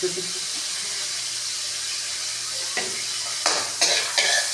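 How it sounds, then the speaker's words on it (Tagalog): Onion and garlic sautéing in a pan, a steady soft sizzle with a few sharp stirring scrapes and clatters toward the end; a voice speaks faintly at the start. "sisigisa na natin ang ating sibuyas, bawang, usual, pag brown-brown na siya"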